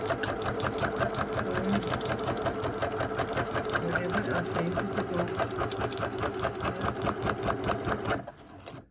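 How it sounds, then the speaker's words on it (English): A new sewing machine runs continuously as it stitches through gel-printed card stock pages for a concertina book, a fast rattling hum that cuts off near the end, with a voice speaking over it. "Now I would put it in my sewing machine, and I will show you when I'm done sewing."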